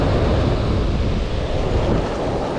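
Ocean surf rolling in during spring shore fishing for bluefish makes a constant, loud broadband roar of breaking waves, mixed with wind buffeting the microphone and no voices.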